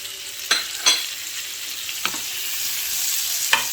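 Sliced onions and tomatoes stir-frying in pork chop juices, a soft steady sizzle broken by a few sharp scrapes and clacks of a utensil stirring the pan.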